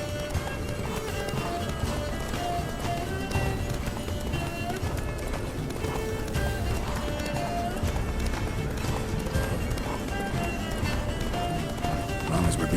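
In The Witcher 3: Wild Hunt, a horse gallops at speed with steady, rapid hoofbeats that run throughout, mixed with game music and sound effects while characters talk.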